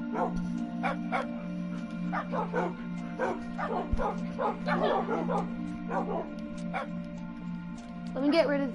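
Dogs in a blocky Minecraft-style survival game bark and yip repeatedly in short bursts across the stretch, over a steady background hum, with a sharper cluster of yelps near the end.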